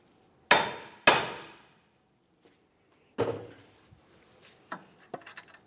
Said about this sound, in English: Continue with a hammer and tap just along the knuckle